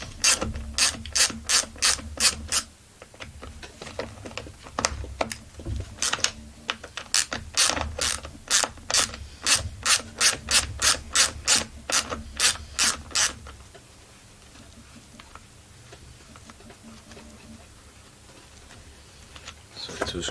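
A ratchet clicks in rapid rhythmic bursts while removing screws from a Husqvarna 44 chainsaw during refurbishing, close and crisp, then falls quiet with faint handling noises after the final turns.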